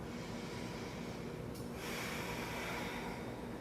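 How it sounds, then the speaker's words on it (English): Deep, slow breathing during a yoga balance session, a soft airy inhale followed by a longer hissing exhale, close and quiet over faint room noise. "Take another deep inhale and exhale."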